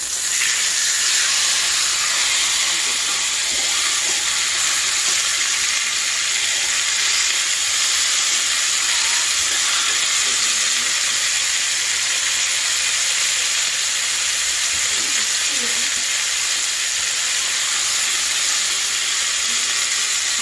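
Pork steaks searing in a hot pan, a continuous loud broad sizzle and hiss holding steady throughout with only faint background movement.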